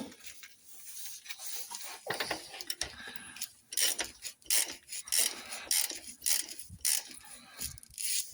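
A 17mm ratchet wrench turning the nut on the rear anti-roll bar link of a Jaguar XK8, heard as repeated close bursts of quick ratcheting clicks in an uneven rhythm with short pauses.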